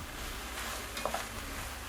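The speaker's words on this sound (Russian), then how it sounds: "Закидываем на сковородку овощи. И обжариваем все это дело вместе несколько минут." Vegetables and chicken pieces frying together in a pan for a chicken goulash, giving a steady sizzle with a couple of brief stirring scrapes near the middle, close and moderately loud with no talking.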